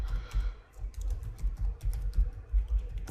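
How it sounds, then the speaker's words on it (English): Someone types a password on a computer keyboard, a quick run of close, crisp key clicks in an uneven rhythm, with no talking. "So I'll just go and type a password."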